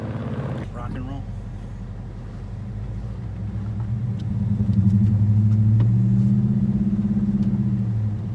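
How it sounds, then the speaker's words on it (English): A car fitted with long tube headers rumbles with a deep exhaust tone that swells louder midway, while people talk over it. "I love the exhaust tone"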